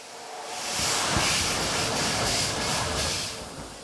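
The Flying Scotsman steam locomotive starting away up a 1 in 100 gradient, a loud steady roaring hiss of steam with faint rhythmic chuffs, close up and without talk.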